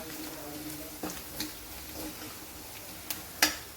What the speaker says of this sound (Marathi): इथे मी अर्धा चमचा थोडासा काळा मसाला टाकते तो पण छान असा परतून घ्यायचा